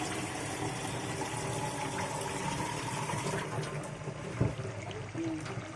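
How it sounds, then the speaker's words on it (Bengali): Water poured into a pot of goat meat being cooked, a steady broad rushing pour running throughout at moderate loudness, with a brief clunk near the end. "আমি এখানের মধ্যে এখন পানি অ্যাড করে দেব ছাগলের মাংসতে।"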